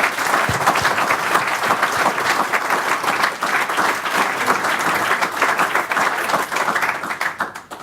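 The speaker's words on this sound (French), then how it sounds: "je pense qu'on peut applaudir Abdelatif" Sustained, loud audience applause for rugby player Abdelatif Benazzi at a club conference, dense steady clapping from a large crowd that thins slightly toward the end.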